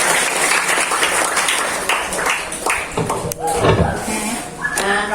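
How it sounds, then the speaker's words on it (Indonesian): A church congregation applauds for Jesus after a sermon, dense clapping filling the room with scattered voices and murmured talk rising through the crowd noise. "Tepuk tangan untuk Tuhan Yesus."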